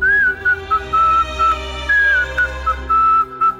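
A melodic whistle from a Bhojpuri film scene, blown to call a dog, rising and falling in several short phrases with brief gaps, loud and close over a soft music bed.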